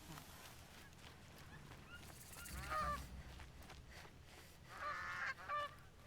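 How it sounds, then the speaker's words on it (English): Canada geese honking in the Horizon Zero Dawn game, a few nasal honks rising out of an outdoor ambient wash, moderately loud and separated by stretches of background sound. "It's a Canadian goose, clearly."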